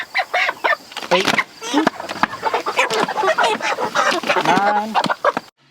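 Pastured chickens cluck and squawk loudly and continuously at close range while being loaded into crates, with overlapping calls and occasional rustling and knocks.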